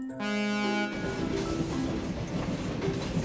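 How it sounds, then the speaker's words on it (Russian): Orange train rolling straight through a junction in the railway puzzle game Train Valley, with a tonal horn-like chord at the start giving way to a steady rumbling, clattering run of wheels and engine that stays even in loudness. "Оранжевый поезд здесь вот проезжает прямо в итоге."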